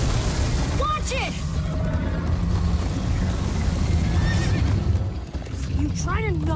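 A horse whinnies several times in rising and falling cries over a steady low rumble of hooves and movement, with a voice speaking briefly in between, in the video game Minecraft: Story Mode.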